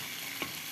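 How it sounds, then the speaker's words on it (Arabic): Small cubes of chicken breast hit about three spoons of hot oil in a pan, giving a brief, steady close-up sizzle with a slight stirring swell near the end; no one speaks. "هنشوحها في حوالي 3 معالق من الزيت"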